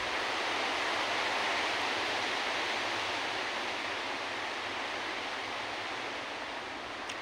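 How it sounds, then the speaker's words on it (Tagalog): Strong wind blowing outdoors in Qatar at the start of winter, a steady, loud broadband roar that holds unbroken for the full stretch with no voices over it. "Grabe guys, ang lakas ng hangin."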